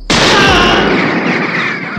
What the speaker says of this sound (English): the loud gunfire also revealed his position